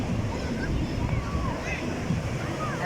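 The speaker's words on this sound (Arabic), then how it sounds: "الامواج بتاعت الميه حلوه جدا" Sea waves washing onto an Alexandria beach at sunset, a steady broad wash of surf with wind buffeting the microphone throughout, fairly close and continuous.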